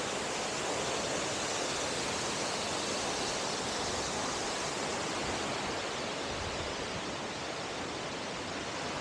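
A steady, dense roar of rushing water fills the whole stretch, loud and unbroken, like a large waterfall heard up close.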